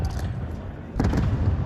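Gunfire rattles through a Counter-Strike style tournament match, a dense run of shots and bursts growing louder midway, layered over a low rumble of game noise.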